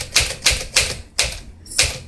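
Keys struck on a 1957 Smith Corona Silent Super portable manual typewriter, stiff from storage: six sharp clacks at an even, brisk rhythm, close and clear with no talking.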